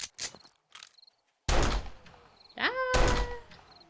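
Gunfire aimed at zombies during horde night in the co-op video game 7 Days To Die, Alpha 18; a few close, loud bursts of shots with a harsh tonal shriek in between, after a sparse quiet start.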